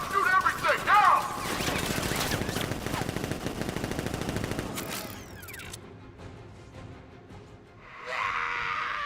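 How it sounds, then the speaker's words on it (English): Rapid bursts of automatic fire from guards and sentry guns in Batman: Arkham Knight, a rattling stream of shots that fades into mechanical clicks and whirs, then a brief final hiss. "Activate sentry guns on move. Guards! Open fire! Shoot everything! Now!"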